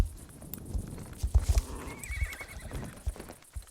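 A foal in the Star Stable Online video game gallops with quick, rhythmic hoofbeat clip-clops and a bright whinny partway through, all fairly close and clear.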